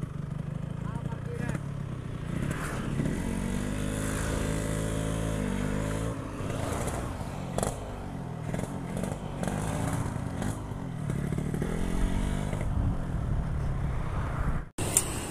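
A Yamaha RX-King motorcycle with a ported engine revs up and down, its buzzing exhaust note rising and falling in pitch beneath ongoing conversation, with a sharp break near the end.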